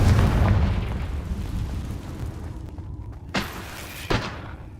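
Confringo blasting spells exploding in the Hogwarts Legacy video game: a loud deep boom rumbling and fading over a few seconds, followed by two sharper, lighter bursts a moment apart, with no talk.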